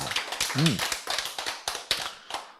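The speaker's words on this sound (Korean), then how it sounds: "박수" Members of a church congregation clap in a brisk, uneven run of sharp slaps, close by, while a brief voice rises over the start of the clapping.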